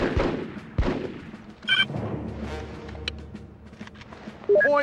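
Gunfire breaks out in a squad-based tactical shooter as a fire team engages a target: sharp shots and short bursts, some loud and near, others more distant, over faint game ambience.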